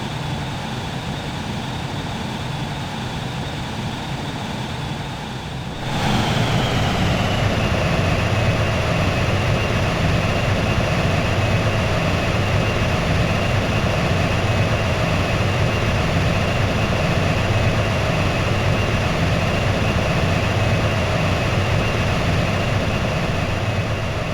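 A steady aircraft engine drone from the video game Xenoblade Chronicles X, heard during landing, with the engine pitch dropping partway through, then holding a loud, continuous rumble with a high whine for the rest of the clip.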